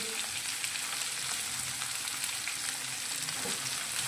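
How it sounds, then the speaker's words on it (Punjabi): Onions and tomatoes fry in a pan with bay leaf for shahi paneer, a soft, even sizzle throughout with occasional faint stirring, quiet and unbroken by talk. "ਹੁਣ 2-3 ਮਿੰਟ ਆਪਾਂ ਇਦਾਂ ਹੀ ਇਹਨੂੰ ਪਿਆਜ਼ ਟਮਾਟਰ ਨੂੰ ਭੁੰਨ ਲੈਨੇ ਆ"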